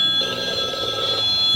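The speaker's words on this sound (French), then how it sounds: "Ah, c'est le téléphone?" A telephone rings with a steady electronic trill lasting over a second, moderately loud and close, with a quiet room murmur underneath and no speech during the ring.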